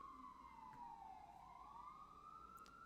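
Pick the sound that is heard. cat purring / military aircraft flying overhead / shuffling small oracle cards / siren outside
siren outside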